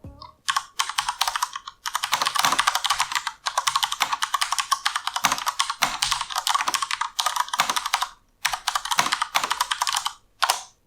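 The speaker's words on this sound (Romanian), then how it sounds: "Și acum a venit momentul unui scurt typing test." Rapid typing on a high-end gaming mechanical keyboard with light 45-gram switches, its keys relatively quiet, produces dense bursts of crisp clicks and clacks broken by a few brief pauses, close and clear.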